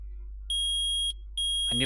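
Metal detector in the Phoenix Wright: Ace Attorney video game sounds two sustained shrill electronic beeps, each about half a second long with a short gap between them, and a voice begins speaking as the second beep ends.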